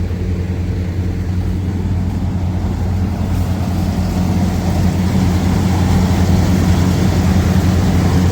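A steady, heavy tractor engine drone with a deep low rumble runs unbroken throughout, loud and close, with no talking, during rice harvesting.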